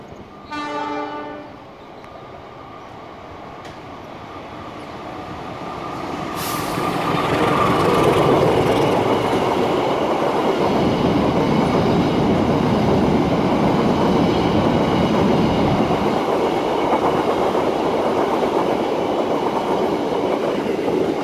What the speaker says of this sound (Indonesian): Nah, keretanya sudah tiba.